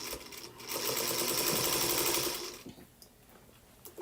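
A sewing machine stitches a quilt seam in a close, steady whirring run that stops after a couple of seconds, leaving a quieter pause.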